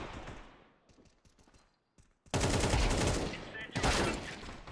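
AK rifle fire in a competitive first-person shooter video game, a few sharp shots first, then a loud sustained burst of automatic fire that runs on for about two seconds close to the listener.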